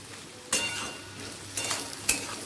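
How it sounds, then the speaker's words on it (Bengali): Carrots, beans and capsicum frying in ghee for quick fried rice, a soft steady sizzle in the pan broken by a few louder scrapes and stirs of a spoon against the pan. "গাজর বিনসের সাথে ক্যাপসিকামটাও একই সাথে ভাজতে দিয়ে নিলাম"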